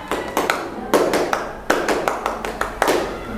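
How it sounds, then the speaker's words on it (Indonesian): A class of students performs the scout clap (tepuk pramuka) in a classroom, a patterned series of sharp, fairly close group claps in quick bursts and pauses, with no talking over it. "Sekarang tepuk pramuka."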